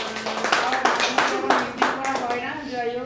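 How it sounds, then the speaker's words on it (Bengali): A small audience claps loudly for a few seconds, with uneven bursts of hand claps and voices mixed in. "হাততালিটা জোরে"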